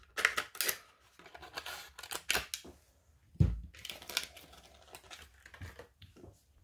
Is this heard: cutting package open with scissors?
yes